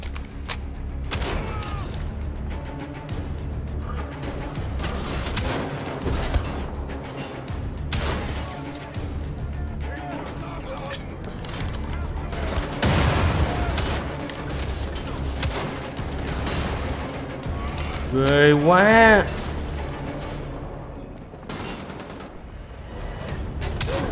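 Gunfire in the shooter game Wolfenstein: The Old Blood, set in a German prison: dense, loud rapid bursts of automatic fire with booms and crashes, continuous over the whole stretch, with a brief tonal effect near the end.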